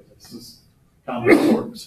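A single sharp sneeze bursts out in a physics lecture hall, loud and close, coming just after a brief phrase of the lecturer's speech.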